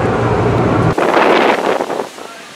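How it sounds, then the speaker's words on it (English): Strong wind blows outdoors at a harbor, with loud rumbling microphone buffeting that shifts abruptly partway through, then gusty rushing that fades away toward the end. "it's getting really windy here"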